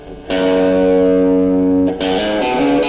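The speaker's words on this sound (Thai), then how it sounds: "ลองเป็นเสียงแตกบ้างนะครับผม" An electric guitar plays through a Kazuki KA-20 guitar amp with heavy distortion: one loud, sustained fuzzy chord rings for over a second, followed by short, choppy distorted chords, all close and dense.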